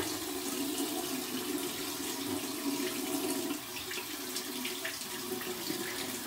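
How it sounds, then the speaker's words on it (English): Cold tap water runs steadily into a sink for a face rinse, a continuous broadband splashing hiss that stays even and fairly close throughout with no talking. "we're gonna go ahead and do cold water rinse."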